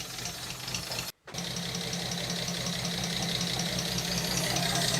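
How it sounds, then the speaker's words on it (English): Austin Princess car engine idling with a smooth, even, low rhythmic thrum, broken by one brief dropout before carrying on steadily, close up with no voices. "it's even idling"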